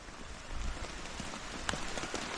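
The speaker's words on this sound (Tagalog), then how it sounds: "kanina po sobrang init eh, biglang ulan" Soft, steady rain pattering on a surface, with scattered drips and taps over a faint hiss; no one speaks.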